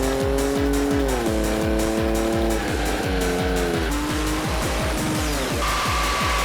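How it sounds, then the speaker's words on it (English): A Vauxhall Vectra V6 exhaust roars loudly on a rolling road dyno, its note climbing and dropping in pitch as the engine pulls through the gears, close and unbroken. "Listen to that. That's an exhaust and a half."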